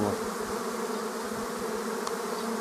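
A swarm of honeybees settled near an apiary gives off a dense, continuous droning buzz, close and steady throughout with no pauses.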